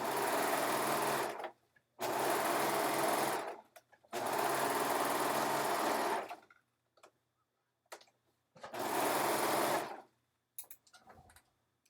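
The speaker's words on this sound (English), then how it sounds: "So now I'm going to flip this and I'm going to stitch it the other direction." A sewing machine stitches in four loud, steady bursts of a couple of seconds each, separated by short pauses filled with faint clicks and handling sounds.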